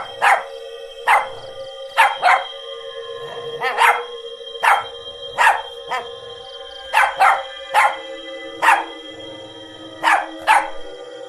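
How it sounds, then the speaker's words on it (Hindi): Dog barking loudly and repeatedly in sharp, evenly spaced bursts, about a dozen barks with short gaps, close and prominent over a faint background. "फिर टफी वहीं रुक जाता है और जोर जोर से भौंककर अपने साथियों को पुकारने लगता है"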